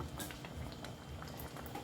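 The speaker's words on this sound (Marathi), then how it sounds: "छान उकळी आले आपल्या सांबारला" A pot of hotel-style sambar boils at a quiet, steady bubble, with soft continuous popping and gurgling heard close by.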